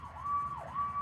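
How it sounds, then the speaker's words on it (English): An emergency vehicle siren wails nearby, a loud electronic tone that sweeps down and back up again in a quick wailing cycle. "Pardon the sirens."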